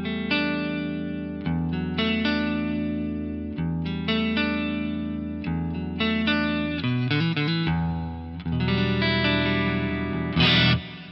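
An electric guitar plays sustained chords and melodic notes through a Rich Hall reverb at stock settings, the tones blooming into a long, washy tail, with a brighter strummed accent near the end.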